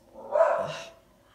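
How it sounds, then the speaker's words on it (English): A single dog bark, fairly faint and somewhat distant, heard alone indoors with no talking over it. "I stopped my dog barking"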